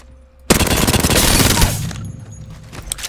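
Rapid automatic fire from an R99 submachine gun in the video game Apex Legends, a loud dense burst starting abruptly and rattling continuously for about a second and a half before tapering into fading echoes.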